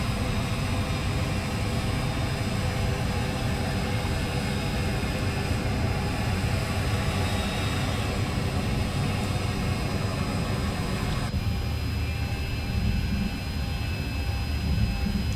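Engines of an Avianca Boeing 737-800 in a flight simulator game, spooling up for takeoff at Cartagena, a loud continuous broadband roar with a steady whine that drops slightly in tone near the end.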